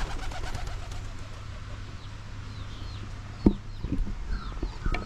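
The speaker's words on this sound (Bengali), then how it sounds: "এদিকে আরও কিছু কবুতর রয়েছে।" Pigeons in a village courtyard give soft cooing calls over a steady low hum of outdoor ambience, with one sharp knock midway and no talking.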